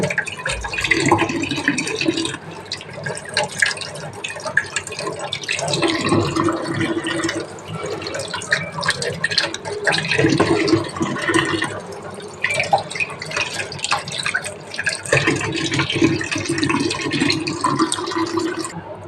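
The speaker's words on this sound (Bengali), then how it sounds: "আমি আলুটা ধুইয়ে নেব, পটলটাও ধুইয়ে নেব" Potatoes and pointed gourd are rinsed under running tap water in a kitchen, with continuous splashing and trickling that swells and dips for the whole stretch as the vegetables are handled.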